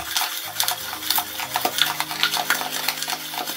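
A baitcasting reel's spool bearing is shaken in clear cleaning liquid, giving a quick, continuous run of small metallic rattles and clicks close to the microphone.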